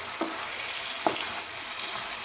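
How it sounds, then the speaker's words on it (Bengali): Shol fish braising in a little mustard oil in a frying pan gives a steady, close sizzle, broken by two brief scraping stirs. "মিনিট দশেক ধরে আমি মাছটাকে কষিয়ে নেব"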